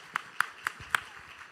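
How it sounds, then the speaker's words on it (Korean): A church congregation at a Sunday afternoon worship service claps four times to give glory to God, the sharp claps spaced evenly and fairly close over quiet background noise. "우리 박수로 하나님께 영광 돌리겠습니다."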